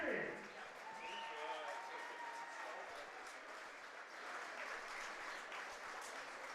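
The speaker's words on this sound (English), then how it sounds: "Crowd gives the Majors from last season a good hand" Ballpark crowd at a London Majors baseball game gives a sustained round of applause, a steady wash of clapping that holds at even strength throughout with no one talking over it.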